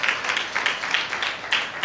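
Audience claps loudly in a church training session, bursts of applause rising and falling in uneven waves across a short stretch, no voices over it.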